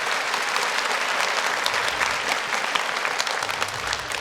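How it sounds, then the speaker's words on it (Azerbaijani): Sustained audience applause fills an award ceremony hall for the Azerbaijan National Economics Olympiad, a dense steady roar of many hands clapping at constant loudness throughout, without pauses or talk. "gəlin bizim səbəbkarlarımız ilə sizin gür alqışlarınızla ürəkdən təbrik edək"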